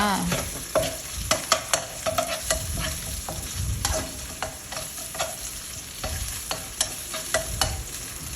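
Sliced meatballs sizzling and frying in a pan, with irregular sharp scraping and stirring clatters over a steady hiss; no talking.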